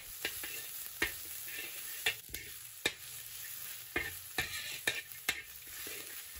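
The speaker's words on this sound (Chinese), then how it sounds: "煸香以后把姜末蒜末给加进来，" Minced ginger and garlic stir-fry in a wok, a low steady sizzle broken by sharp spatula scrapes and taps against the metal at an uneven pace, close and fairly quiet with no talking.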